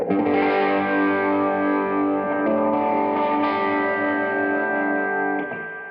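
A sustained electric guitar chord overdriven through an MXR pedal rings out loud and full, slowly decaying, with a brief re-strike near the end.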